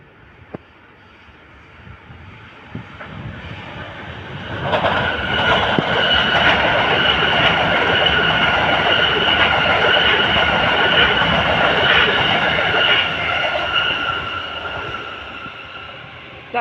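A Sydney Trains A set pulling into a station, starting as a quiet distant approach and swelling into a loud sustained rolling roar with metallic wheel squeal and clatter, then easing slightly near the end.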